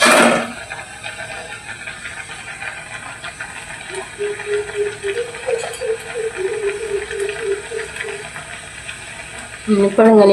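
A pan of egg curry made with seven eggs bubbles and simmers on the stove, a steady close hiss with soft popping bubbles running throughout, and a voice speaks briefly at the start and end.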